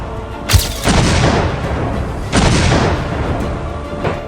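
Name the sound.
Indian army artillery shelling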